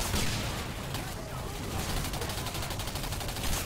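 Rapid gunfire in the video game Singularity, a dense sustained barrage of shots filling the clip at steady loudness, with a voice talking over it.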